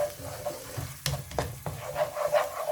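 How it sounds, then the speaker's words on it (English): Tomato masala with garam masala cooks in a pan and is stirred, a close soft sizzle broken by several sharp spoon scrapes and clacks at an uneven pace, without any voices. "Mix it and cook this for 5 minutes so the tomatoes are cooked properly"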